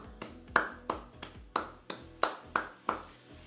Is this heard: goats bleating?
no